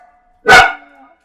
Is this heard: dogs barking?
yes